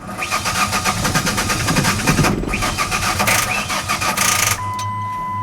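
A 2001 Ford Ranger engine cranks steadily on the starter without catching, a loud rapid rhythmic churn lasting several seconds before a brief pause and a high warning chime.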